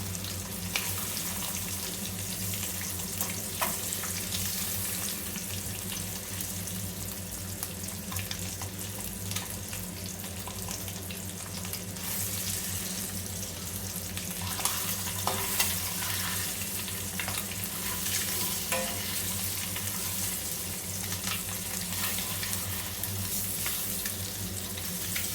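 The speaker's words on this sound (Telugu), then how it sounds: "ఇలా ఫ్రై చేసుకోవాలి." Eggs frying in a pan for egg biryani, sizzling steadily and close up, with the scrape of stirring and turning throughout and no talk.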